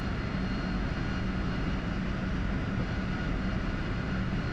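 A Harrier jet engine at idle during a descent in the DCS flight simulator gives off a constant, smooth cockpit roar. The drone stays steady and fairly quiet, with no voices over it.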